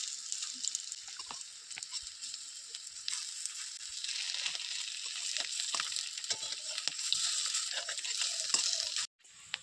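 Egg pitha, a Bengali egg-batter cake, frying in a pan with a steady, close sizzle and faint spatter crackles throughout. The sizzle cuts out abruptly near the end, then resumes softly.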